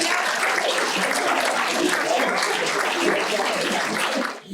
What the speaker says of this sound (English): Give her a round of applause for the challenge that she's taken on.